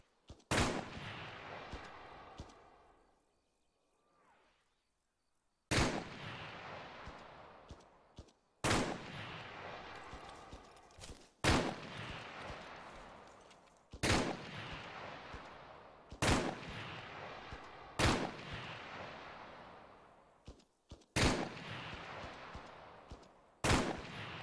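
Bursts of gunfire in the Arma 3 military shooter come in sharp, loud volleys, about seven separate strings of shots after a quiet opening, each burst ringing out and then decaying.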